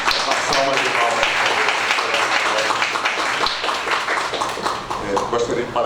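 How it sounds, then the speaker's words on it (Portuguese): Audience clapping at the inauguration ceremony of the new IEAA-UFAM university board, a steady burst of applause from a room full of people lasting several seconds, with a voice speaking over it. "Gostaria de parabenizar, uma salva de palmas."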